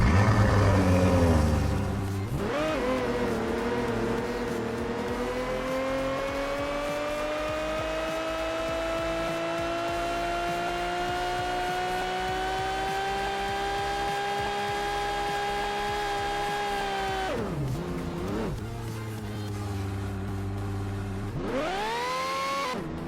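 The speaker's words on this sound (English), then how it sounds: "it also plays a custom engine sound," Custom vehicle engine in the Roblox game Jailbreak, a steady, loud synthetic motor whine held at a near-constant pitch for most of its run, dipping and rising again near the end, with no voices.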